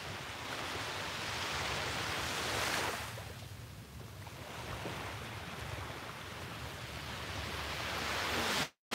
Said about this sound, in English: soak in the sound of the waves for one more minute